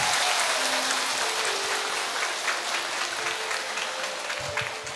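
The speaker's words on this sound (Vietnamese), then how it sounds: "Một tràng pháo tay thật to nữa thưa anh chị em." Loud applause from a gathered church community at a Holy Week parish event, a thick wash of clapping that starts strong and tapers slightly toward the end, with faint background tones beneath.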